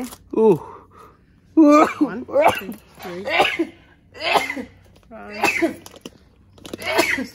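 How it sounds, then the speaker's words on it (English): Several sneezes in a row from a person sorting through an abandoned storage unit, sharp close bursts repeated at short intervals with voiced gasps between them. "Are you counting my sneezes again?"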